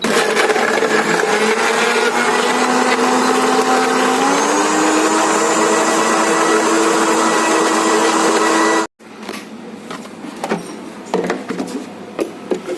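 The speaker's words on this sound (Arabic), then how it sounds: "هنغطي بالغطا وهنسيبه يتضرب زي المانجا بالظبط 10 ثواني" A blender whirs loudly and steadily as it purees strawberries with two spoonfuls of sugar, its motor pitch rising partway through, then cuts off abruptly, leaving faint kitchen clatter.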